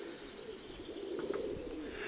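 A pigeon, a young grey-blue hatchling from a flying breed, coos softly in a low rolling murmur against faint background hiss, with a couple of brief higher chirps partway through.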